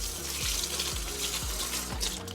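Water being poured onto houseplant soil while repotting a Monstera Albo, then draining through, giving a steady close trickle and splash with soft repeated glugs.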